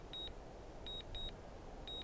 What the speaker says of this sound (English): see how you can't turn down the volume on the return to home beep?